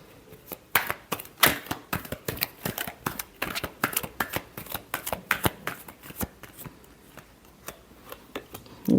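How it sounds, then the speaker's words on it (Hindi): A deck of tarot cards being shuffled by hand, crisp riffling and flicking bursts repeating in an uneven rhythm, close and fairly loud, with no voice over it. "last shuffle"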